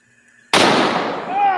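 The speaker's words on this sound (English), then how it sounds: "Again, I have a CZ 550 bolt action rifle." A CZ 550 bolt-action rifle fires a .458 Lott round loaded with a 500-grain brass solid: one sudden, very loud blast that cuts into a quiet scene and rings out in a long, slowly fading tail.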